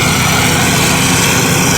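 A homemade mower built with a snowblower motor runs steadily and loudly close by, a continuous engine drone with no pauses through the short stretch.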